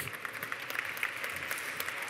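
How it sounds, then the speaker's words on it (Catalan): Applause at a university graduation ceremony, a moderate crowd clapping steadily throughout with no talk over it, heard from a little distance. "Que no parin els aplaudiments, molt bé."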